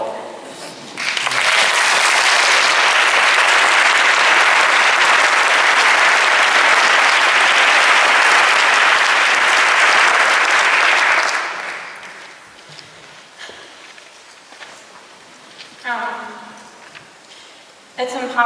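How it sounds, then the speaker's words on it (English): An audience at a memorial celebration applauds speakers and musicians, a loud, sustained wash of clapping for about ten seconds that then fades out into scattered claps and a voice speaking. "Please feel free to applaud the speakers and the musicians."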